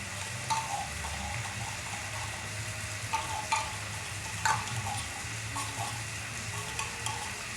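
Canned ground meat frying in a pan while being stirred, a steady close sizzle with periodic scraping clicks of the utensil against the pan, no voices.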